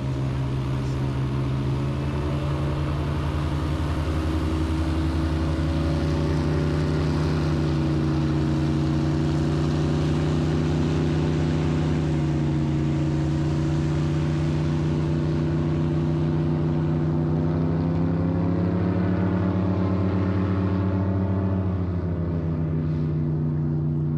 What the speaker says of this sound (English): With the airboat traffic and how loud their motors are